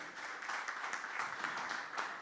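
An audience at a university conference gives a round of applause, a brief, even burst of many hands clapping that sounds faint and somewhat distant, with no voices over it.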